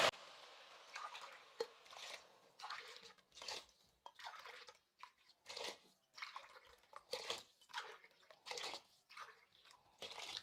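Water is poured in bursts over rice and lentils in a cooking pot, a series of close splashing gushes with short pauses between them, no talking.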